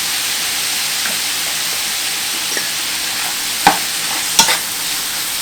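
Ground meat seasoned with salt, pepper and Italian seasoning fries loudly in a pan with a steady close sizzle, and a utensil stirs it with two clear scraping knocks near the end.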